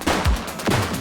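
Gunfire in The Precinct police game: a short burst of two or three sharp, loud shots with booming low ends, spaced irregularly across about a second, no voices.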